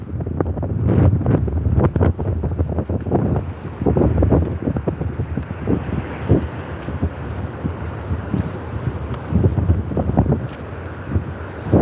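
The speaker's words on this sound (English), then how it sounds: "I think the sound of the sea bothers him a little bit." Strong wind buffets the microphone on a beach at Withernsea while loud sea waves roll and crash underneath, a continuous roaring wash with gusty surges and no speech.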